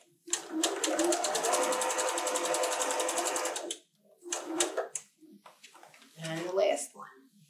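A sewing machine stitches quilt square pieces for a churn dash block in a long, fast, even run of rattling stitches, then two short bursts, followed by a person speaking nearby.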